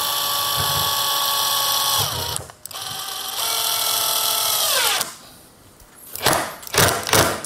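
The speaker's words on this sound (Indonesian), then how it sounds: "langsung impactnya bunyi ya, karena memang keras banget kayunya" A Tekiro 20V cordless impact driver drives a screw into hard red meranti wood without pre-drilling, giving a close, loud, steady motor whir that drops in pitch. The screw snaps, then come a pause and a few rattling knocks.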